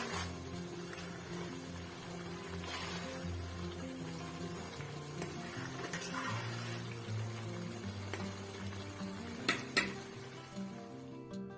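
Tomato curry is stirred in a pan as it thickens, a quiet low sizzle running under soft scraping and occasional clinks of utensil on metal, with a couple of sharper knocks near the end.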